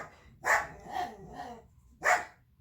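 A dog barks excitedly indoors as someone arrives home, three loud close barks with short gaps and a softer yip between them.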